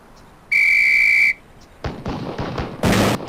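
A single sustained, loud, steady whistle blast from Police Quest: SWAT sounds for nearly a second, followed by several sharp shotgun booms.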